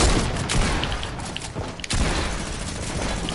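Minigun fire in a video game, a dense continuous roar of rapid shots with sustained rumble and a brief dip midway, loud and close with no talk.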